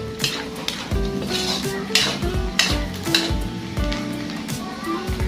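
Pork lungs sizzling in a pan while bopis is cooked, with loud frying hiss, repeated clanks of a utensil against the pan, and a voice heard briefly in the background.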